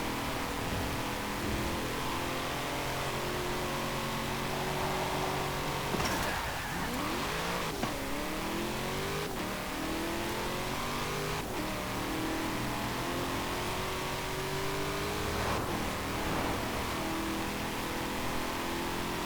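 A 2020 Chevrolet Corvette Stingray coupe's V8 engine roars in Forza Horizon 4, holding a loud sustained drone, then dropping and climbing again through several sharp revving sweeps and gear changes, with no talking.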